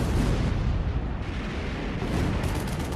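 Dense, continuous roaring rumble of heavy naval artillery fire, loud and booming with no pauses, like big ship guns pounding together.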